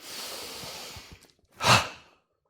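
During a laughter yoga exercise, a long soft breath runs for about a second, then after a short pause comes one strong, close, breathy inhalation or exhalation.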